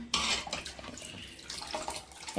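Water poured into a cooking pot while making pepper rasam, a steady splashing pour running close and fairly loud for a couple of seconds with small dips in intensity.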